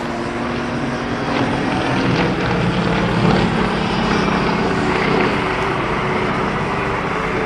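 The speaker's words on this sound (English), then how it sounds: "climbs the airplane up, rolls the airplane around top, and comes back down" A Nanchang aircraft engine drones steadily through an aerobatic maneuver at a lakeside airshow, holding a loud, continuous propeller roar that swells slightly mid-pass before easing back.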